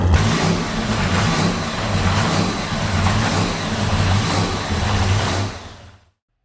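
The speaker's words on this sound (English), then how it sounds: "The big block is finally on the dyno." A supercharged, methanol-fed big block Chevy V8 on a dyno with a Holley Dominator system revs hard and steadily for about five seconds, its loud deep roar and blower whine holding before cutting off abruptly.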